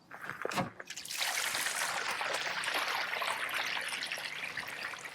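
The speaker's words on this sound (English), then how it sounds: "Now we're going to use the gray water to cleanse the hose a little bit." Gray water from an RV tank rushes and trickles steadily through the RV sewer hose after a brief knock, a continuous gurgling flow with no voices.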